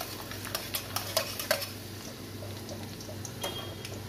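Sliced garlic frying lightly in a pan while a utensil stirs it, giving a soft steady sizzle with a run of close, sharp scraping clicks early on and a low hum underneath.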